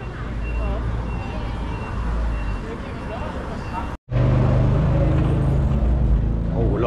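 Cars roll past on a busy evening street, Nissi Avenue in Ayia Napa, Cyprus, with a continuous engine rumble and tyre noise, one vehicle swelling louder and closer near the end, while a person talks over it.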